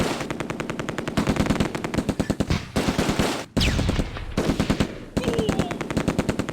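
Rapid bursts of machine gun fire from the WWII strategy game Close Combat: A Bridge Too Far, loud and close, in several sustained volleys with brief pauses between them and no talking.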